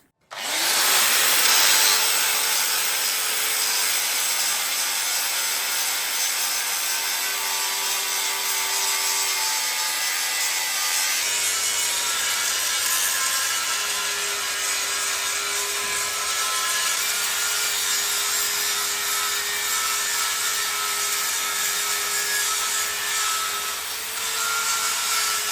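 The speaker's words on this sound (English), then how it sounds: "I'm giving that all a grind down now" Grinding down a weld on a Lemken plough frame, a loud, steady abrasive whine held continuously for about twenty-five seconds, with slight shifts in pitch and pressure and no talking.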